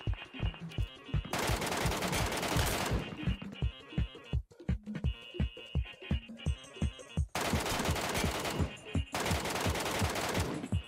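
Rapid bursts of automatic gunfire from the shooter game Metro Royale, loud and close, with dense rattling volleys separated by short gaps and sharp single shots between them.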